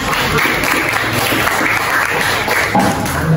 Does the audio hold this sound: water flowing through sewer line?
no